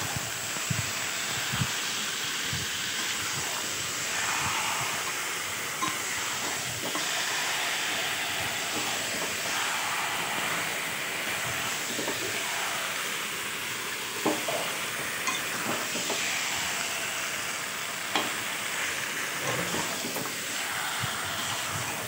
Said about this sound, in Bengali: তো এবার মশলাটা কষাতে কষাতে আমি দিয়ে দেবো এর মধ্যে মটনটা।